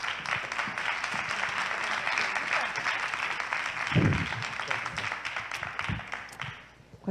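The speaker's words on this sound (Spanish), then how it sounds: "Un aplauso, por favor." Audience applause at a coaching conference in Valladolid, a dense, continuous clapping from a roomful of people that holds steady, then thins and fades near the end, with a low thump partway through.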